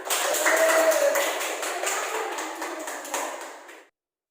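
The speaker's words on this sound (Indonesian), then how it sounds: "semuanya beri tepuk tangan buat teman kalian" Students in an accounting class clap for their classmates, a roomful of hand claps that starts strong and gradually thins out over a few seconds before stopping.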